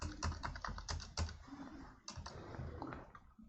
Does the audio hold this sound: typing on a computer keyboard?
yes